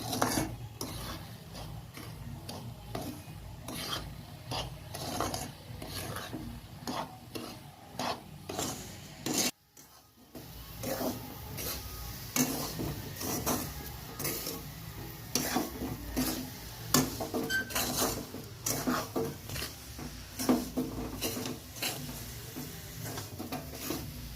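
Semolina being stirred into a coconut laddu mixture in a pan, a steady run of rasping, scraping strokes with a short pause near the middle, close and continuous.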